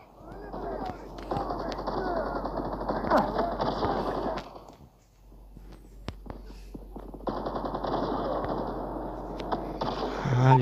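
Rapid bursts of automatic gunfire in Call of Duty rattle loudly with a short lull midway, then resume; a voice talks at times underneath the shooting.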